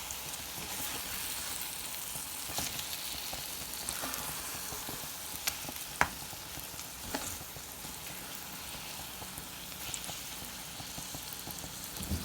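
An egg fries Haitian-style in a hot pan with a steady, crackling sizzle that holds even for the whole stretch. A few sharper pops and clicks stand out near the middle.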